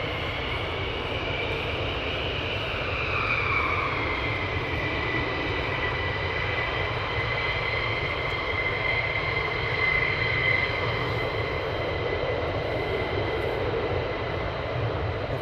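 A military fighter jet departs RAF Lakenheath with a loud, steady roar of engine noise that fills the air throughout and never fades.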